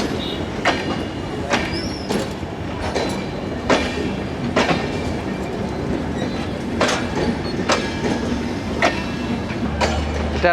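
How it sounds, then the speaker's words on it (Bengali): The Panchagarh Express, a broad gauge intercity train, passes at Santahar railway junction, its wheels beating a loud, steady clickety-clack rhythm with no talk over it. "ব্রড গেজ লাইনের এটা যে কোন ট্রেন আন্তনগর সেটা বলা যাচ্ছে, কিন্তু পঞ্চগড় এক্সপ্রেস এটা"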